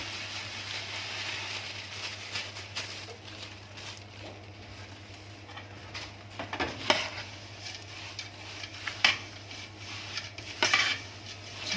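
Nuts and black seed (nigella) toasting dry in a pan, with soft continuous crackle and light clinks and scrapes of stirring, a few sharper taps standing out; no talk.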